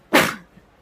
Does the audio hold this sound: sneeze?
yes